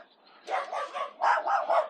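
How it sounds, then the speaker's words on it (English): Small dogs indoors bark in a few quick yappy bursts, fairly close, with a brief gap between the first cluster and a second run of sharp barks. "Sorry, there's some dogs in here."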